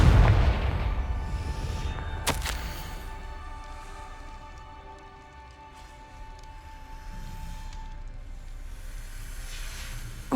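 The Confringo explosive spell is cast in Hogwarts Legacy: a loud burst at the start with a sharp crack a couple of seconds later, then a lingering rumble and tonal magical hum that fades and slowly returns.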